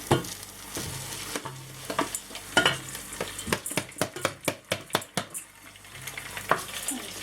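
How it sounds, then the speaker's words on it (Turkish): Onions sauté in a pan with a steady sizzle, broken by a run of sharp, rhythmic scraping strokes of a utensil stirring against the pan. No one speaks. "Şurada azıcık soğan kavuruyorum."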